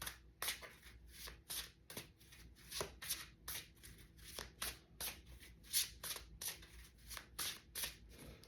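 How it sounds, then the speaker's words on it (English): Tarot cards are shuffled ahead of a reading, their crisp riffling bursts repeating rhythmically about twice a second, close and quiet with no speech. "Let's pull 5 cards."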